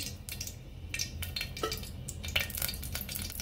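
Cooking oil going into a hot pot for a biryani gives a steady soft sizzle with brief clinks and stirring scrapes on top, close and fairly quiet.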